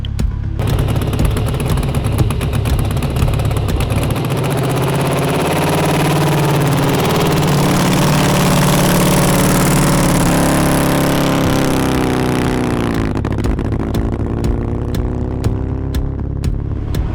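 A race car engine fires up and idles loudly before a run, its steady drone holding for most of the span before the pitch shifts and settles near the end.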